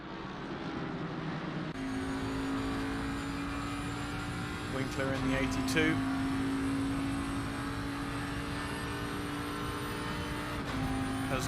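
A pack of GT3 race cars in Assetto Corsa Competizione at Paul Ricard, engines holding a sustained tonal drone with pitch shifts as cars pass, loud and constant beneath a commentator's voice.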